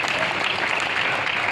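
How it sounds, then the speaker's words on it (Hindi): Steady, dense applause from a poetry gathering audience, a continuous wash of clapping that stays loud and even throughout with no pauses. "ताली बजाओ।"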